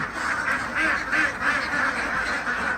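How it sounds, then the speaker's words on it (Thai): Thai laying ducks quack continuously in a dense, overlapping chorus, loud and near, with no pauses. "เรามาส่งเป็ดไทยนะครับ"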